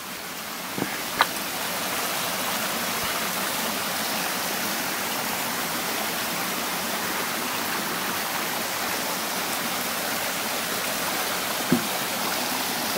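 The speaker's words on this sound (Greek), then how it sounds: "το ρέμα." A stream flows along a park trail near Sella in Messinia, Greece, in April, giving a loud, steady, close rush of water. A few faint clicks sound over it and no one speaks.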